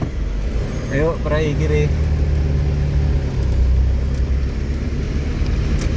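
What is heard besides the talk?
buses passing on road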